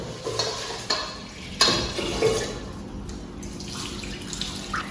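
Rice being washed by hand in water, with splashy swishing strokes and several sharper sloshes at irregular intervals, close and moderately loud, no talking.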